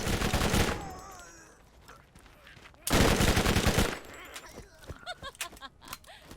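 Two loud, dense bursts of automatic gunfire from a high-damage weapon in the Borderlands video game, close and punchy, separated by quieter clicks, shell-like clinks and game effects.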